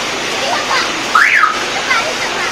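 Heavy rain falls steadily around an off-road Daihatsu Taft 4x4 converted into a mini tourist train, a dense continuous wash of noise with a brief higher whine partway through.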